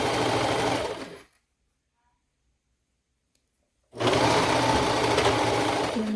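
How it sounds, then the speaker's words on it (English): Sewing machine stitching the hood of a knit sweater romper, running steadily and close for about a second, stopping for nearly three seconds of silence, then running again at a steady pace to the end. "I'm going to put those together and just start sewing about 2 inches before that."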